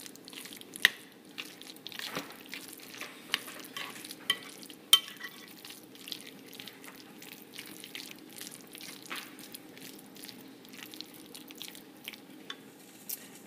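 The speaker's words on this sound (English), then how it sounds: "I just put in some Parmesan shavings. I'm just going to stir that through." Parmesan shavings being stirred through cooked gluten-free pasta, giving a steady run of soft, wet scraping and clicking sounds with occasional sharper taps, fairly quiet and close, with no talking.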